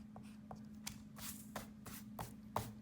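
Marker or pen strokes drawing large, thick graffiti letters on paper: a faint series of short, scratchy swipes at a loosely regular pace over a steady low hum.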